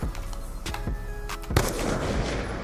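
Several sharp gunshots from Call of Duty Black Ops 2, loud close cracks in quick succession with a heavier final blast that trails off into a lingering rumble.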